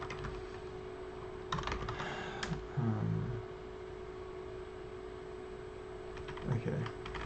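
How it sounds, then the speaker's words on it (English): Quick, light clicks of typing on a computer keyboard set to a Dvorak layout come in two short bursts, with quiet gaps and faint low murmurs in between. "I'm also used to typing on a Dvorak keyboard"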